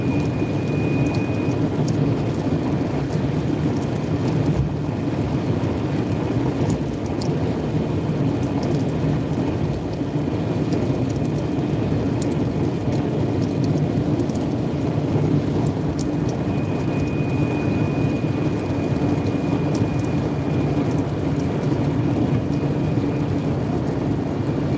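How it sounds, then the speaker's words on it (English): Steady rain pours down continuously with a dense, even hiss, and a low rumble of thunder runs underneath, close and unbroken throughout. "Yes, start raining."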